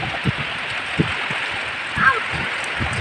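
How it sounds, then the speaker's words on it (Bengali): Heavy rain pours steadily during a storm, a dense, even hiss of falling water that stays constant throughout, with a few faint knocks underneath. "এদিকে এখনও বৃষ্টি কমেনি বৃষ্টি হচ্ছে"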